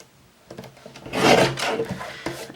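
Paper being trimmed for a handmade card, a single rasping scrape building to a louder sweep in the middle and then fading, close and alone with no talking.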